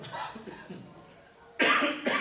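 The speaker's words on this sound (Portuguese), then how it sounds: "que tosse que não me larga" Soft speech-like sounds give way to two harsh, loud coughs close to the microphone, the second following shortly after the first.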